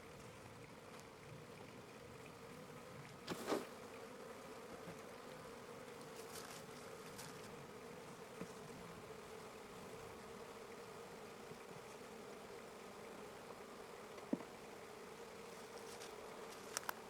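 Honey bees hum in a soft, steady drone during a spring hive inspection, faint and continuous, broken only by a few small knocks and taps.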